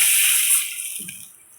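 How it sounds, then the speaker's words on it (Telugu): Water gushes loudly into a pan of fried curry leaves while Yippee noodles are being cooked, a strong pour that lasts about half a second and then tapers off into a fading trickle. "ఇప్పుడు మనం వాటర్ పోసుకుందాం."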